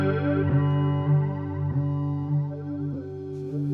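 Electric guitar through a Chase Bliss Spectre through-zero flanger set to negative mode, sustained chords with a sweeping, hollow jet-like shimmer and a few fresh strums, loud and alone with no voices.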